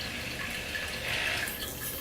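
Water poured steadily from a kettle onto ground coffee to reach 155 grams, a soft continuous trickling stream, close and fairly quiet, with no voices.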